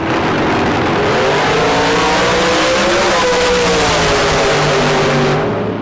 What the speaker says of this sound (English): the dragster that's rocking back and forth on the Las Vegas side as he gets ready to stage in there